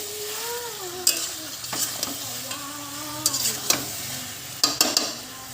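Country chicken meat sizzles and fries in a pan while a spoon stirs it, sharp scraping clacks striking at irregular intervals over a steady hiss, with no talk.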